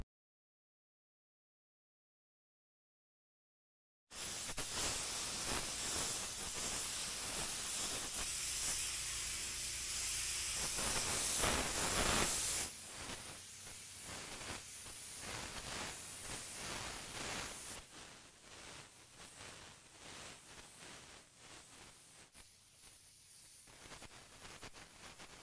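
A paint spray gun lays a heavier second coat onto a car at home, giving a loud, steady, close-up hiss of air and atomized paint that starts after a few seconds of silence, then continues at a somewhat lower, slightly shifting level with no talking.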